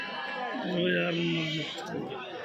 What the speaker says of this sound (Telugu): ఉత్త గొర్రెలే ఉన్నట్టు నా పిల్లలు లేవు కదా ఎంత బాగా భారీ సైజు గొర్రెలే